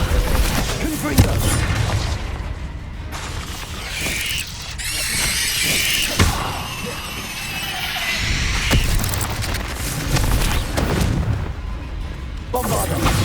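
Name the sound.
Confringo fire spell blast, Hogwarts Legacy video game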